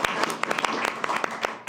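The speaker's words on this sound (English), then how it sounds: "Give him a round of applause." Dense applause from a council meeting audience fills the whole stretch, steady crowd clapping with scattered sharper claps standing out and some voices mixed in.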